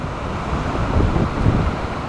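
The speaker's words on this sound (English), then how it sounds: "from time to time we still get some pretty heavy gust of wind." A heavy gust of wind in the aftermath of Hurricane Irma rushes past outdoors, a steady broadband roar that swells slightly in the middle, with buffeting on the microphone and no talking.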